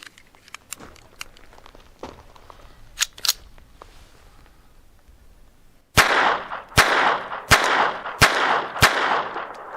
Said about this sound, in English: let's shoot the little Sterling. I have 7 rounds of PMC bronze.